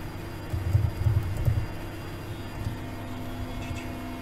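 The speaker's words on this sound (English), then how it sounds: "The helicopter is leaving the ground." A rescue helicopter lifts off from the ground, giving a low, steady rotor and engine drone with some louder throbbing early on. It stays fairly faint and continuous throughout.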